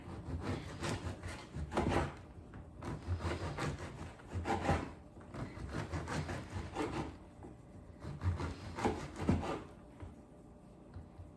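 A knife saws through a crusty baguette in several rough, rasping strokes with brief pauses between slices, close and fairly quiet.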